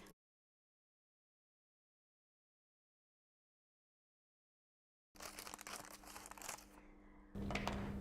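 Paper sleeve pattern being cut, silent at first, then a few seconds of close crisp rustling, crinkling and snipping of paper.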